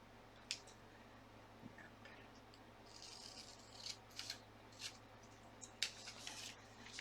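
Scissors trim paper for a gluebook, with faint, close, intermittent snips and rustles spread irregularly over a quiet room hum, no talk.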